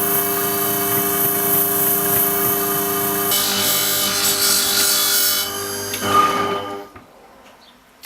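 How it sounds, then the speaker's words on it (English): A scissor blade grinds steadily against a sharpening wheel in a workshop with a loud whirring rasp that changes pitch partway through, then winds down to quiet at the end. "that's the sharpening done"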